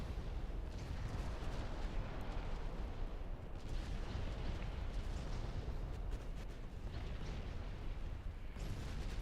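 Heavy naval gunfire and roaring flames from burning battleships in the naval warfare game Ultimate Admiral Dreadnoughts, a dense, continuous rumble of booms and crackling fire without speech.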